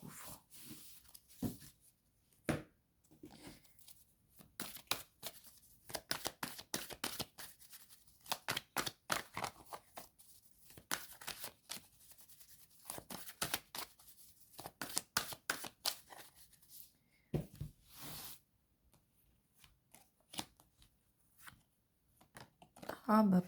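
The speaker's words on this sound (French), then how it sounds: "On va mettre 3 cartes que je recouvre." Playing cards being handled, laid out and shuffled on a table during a tarot-style card reading, giving quick bursts of riffling and sliding, loud and close, with pauses between.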